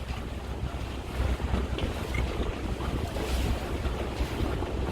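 A houseboat cruising across mild waves at Kumarakom in Kerala, giving a steady, dense wash of water and wind-buffeted noise with a low engine-like rumble throughout, no voices.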